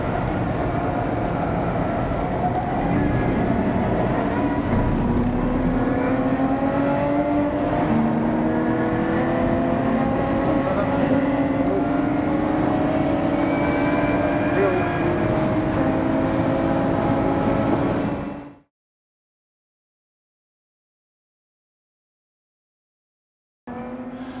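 A Lotus Evora GT430 and Exige Cup 430 lapping Silverstone circuit, engines droning and rising in pitch through the gears under steady road and wind roar, cutting abruptly to silence near the end.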